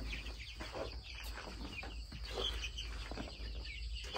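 Chickens cluck softly while pecking at scattered paddy rice, a quiet, steady murmur of low clucks with faint bird chirps in the background.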